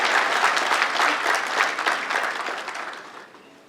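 Dense applause from the audience at the 34th ZICA annual general meeting, a full crowd clapping loudly and continuously before tapering off near the end.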